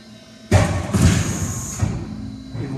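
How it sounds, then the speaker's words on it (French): A paper guillotine cutter (massicot) knife brought down by hand with both hands: a sudden heavy thump and mechanical clatter, then a sustained rumbling, scraping cut fading over about two seconds, close and fairly loud. "on arme notre section et on fait descendre du couteau, toujours avec les deux mains"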